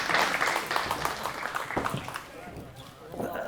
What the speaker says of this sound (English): Clap it up for Jack.